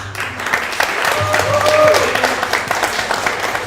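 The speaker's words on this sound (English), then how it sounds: "So, round of applause." A small group in a room applauds a high school football coach, a short round of scattered clapping with a voice talking over it and some low hum beneath.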